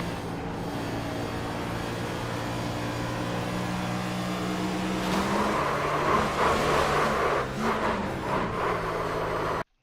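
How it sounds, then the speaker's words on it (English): NASCAR race car at Charlotte, its rear tires spinning up off turn 4, a steady engine roar that rises into a harsher, louder rush partway through, heard from on board without talk. "You can hear the rear tires spinning up off of 4."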